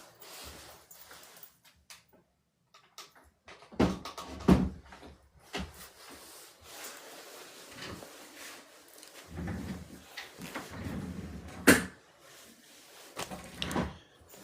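A door being shut indoors, with soft handling knocks and a couple of louder thuds and clicks spread through a quiet room, no talk heard.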